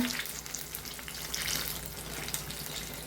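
Pazhampori, Kerala banana fritters, deep fry in plenty of hot oil. A steady, close bubbling hiss with scattered crackles fills the moment, and no one speaks.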